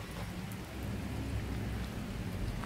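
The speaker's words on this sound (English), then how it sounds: "it just started raining" Steady rain pours down outdoors on a street during a walk, a dense, loud, continuous hiss with spattering drops on surfaces and no voices.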